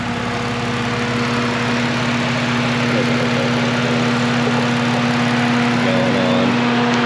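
Steady BMW E46 engine idling just after starting, a loud continuous hum with an even low drone throughout.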